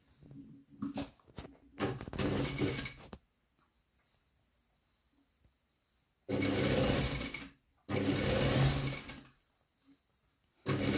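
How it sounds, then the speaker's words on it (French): A sewing machine stitches the hem of a lined jacket in several close, loud bursts separated by quiet pauses, with light handling noises at the start. "Et je vais piquer ça."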